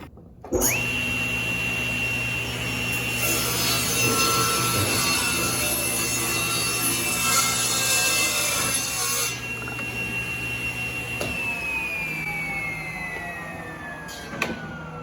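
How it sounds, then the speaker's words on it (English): A table saw rips a wood board to width against the fence for ukulele sides, starting with a sharp spin-up whine, then a loud sustained cutting drone that eases as the blade runs down near the end. "And we'll go ahead and rip this to 2 3/4 on the table saw."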